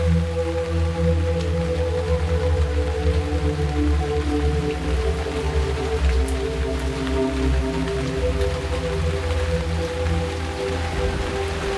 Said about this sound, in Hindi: इस बारिश की आवाज को गौर से सुने।